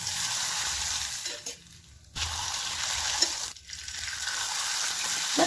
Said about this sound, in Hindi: तो पापड़ को फ्राई कर लेंगे।